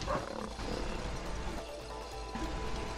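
A lion roars in the video game It Takes Two, a sustained rough growling roar at moderate loudness that rises and falls over a few seconds with no talking.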